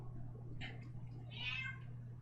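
A cat meows twice, fairly close, over a steady low electrical hum in an indoor room during a drawing stream; the second call is longer and louder than the first.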